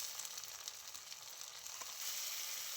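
A spice paste of whole cumin, dried chilli paste and turmeric hisses softly in a pan once a little water is poured in. The sizzle is steady and faint and grows slightly louder toward the end, with no talk.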